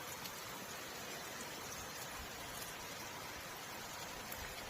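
Steady rain falls over a farm in rural Karnataka, where fodder was waiting to be cut, making a dense, even hiss close by with no breaks and no voices.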